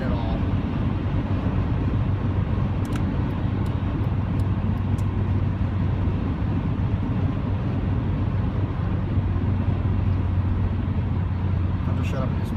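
A 2000 Honda Civic engine pulls steadily at about three-quarter throttle on a test drive, a constant low droning hum with road noise filling the whole stretch, loud and close from inside the cabin.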